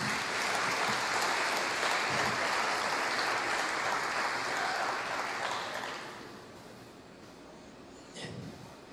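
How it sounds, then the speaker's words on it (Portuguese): A congregation at a church service applauding a boy named Jesus, a loud sustained round of clapping that fades out after several seconds, followed by near quiet with a brief small sound. "Você pode dar uma forte salva de palmas para esse Jesus?"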